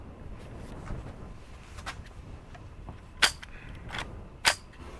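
A Marlin Model 60 .22 rifle fires two sharp, short cracks about a second apart, standing out clearly above a low, quiet background.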